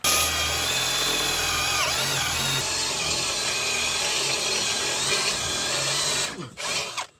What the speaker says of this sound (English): we can go ahead and drill into it a little easier